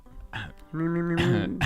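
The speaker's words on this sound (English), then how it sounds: "Clear your throat now." A person clears their throat in a short, rough, voiced rasp lasting about a second, close and fairly quiet.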